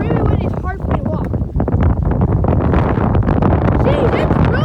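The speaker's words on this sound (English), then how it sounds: "Oh, it's really windy." Strong wind at a beach buffets the microphone in a loud, constant roar, with waves and a shaking dock nearby and a person talking over it throughout.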